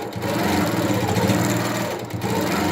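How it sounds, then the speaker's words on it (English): An Innova sit-down longarm quilting machine with a big motor stitching through quilt layers, giving a loud, steady, rapid mechanical whir that runs without a break throughout. "with that big motor that the Innovas have, it just goes over all these layers"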